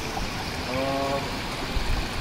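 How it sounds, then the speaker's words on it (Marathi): A water stream flows through Sandhan Valley, a rocky canyon near Ratangad, giving a steady, moderately loud rushing and trickling wash throughout with no clear voices. "पाण्याचा प्रवाह दिसतोय."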